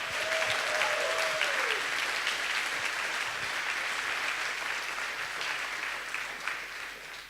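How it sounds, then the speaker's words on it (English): An audience at the A MAZE Berlin 2018 award ceremony applauds, a dense, sustained clapping that slowly tapers, with a brief voice early on. "Big applause."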